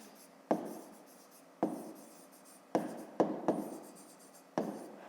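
A pen scratches across paper while someone works a 5th-grade math exercise, in short strokes separated by brief pauses, close and fairly quiet, with no talk.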